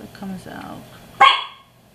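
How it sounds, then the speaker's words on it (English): A pet dog gives a single sharp bark near the end, loud and close, following a man's speech in a home kitchen while scallops are being prepared. "And that's my dog."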